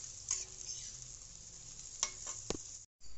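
Fish curry with spices and water is stirred in a pan, giving a soft simmering hiss with a few sharp scrapes and taps of the spoon, fairly quiet and close, cut by a brief silent gap near the end.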